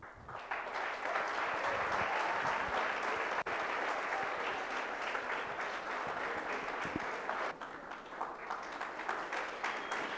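Sustained applause from an audience at a project competition prize distribution, steady dense clapping filling the whole stretch with no speech.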